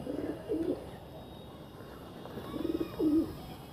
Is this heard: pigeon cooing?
yes